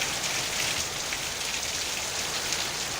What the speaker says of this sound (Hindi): ये तस्वीरें जहां पर बारिश की शुरुआत हो चुकी है